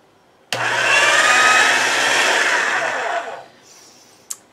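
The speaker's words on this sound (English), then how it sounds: "now I'm going to roll this through the thickest setting of my pasta machine." A hand-cranked pasta machine rolls polymer clay at its thickest setting, giving a loud, steady whirring rumble for about three seconds that then stops, followed by a brief click.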